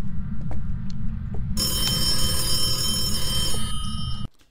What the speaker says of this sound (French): Le téléphone sonne